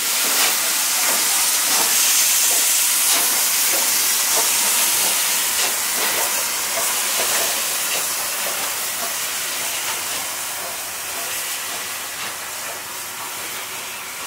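Steam locomotive 23 058 hisses loudly and steadily on the Ablachtal railway, a dense continuous rush of escaping steam that tapers slightly toward the end, with faint clanking from the train beneath.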